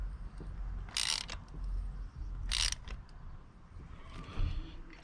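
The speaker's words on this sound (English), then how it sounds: "So now we're just going to be tightening up" Two short, quick bursts of ratchet clicking as a spark plug is tightened on a Peugeot 107, with a faint third rattle near the end, all close against a low background hum.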